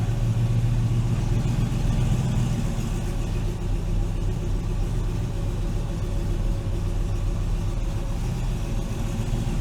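TVR V8 engine idling with a misfire, a loud, close, continuous low rumble that shudders unevenly throughout.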